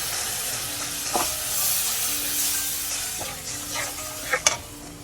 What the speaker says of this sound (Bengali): আমি পেস্টটা হালকা করে ভেজে নিচ্ছি